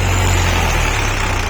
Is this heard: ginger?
no